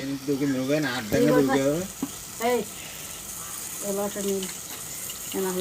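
Curry of okra tamarind stew sizzles and bubbles in a pot on a wood-fire stove, with people talking over the cooking throughout.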